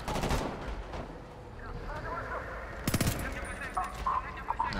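Gunfire through a fence in a video game: loud sharp shots at the start and midway, with scattered further shots, under faint background speech.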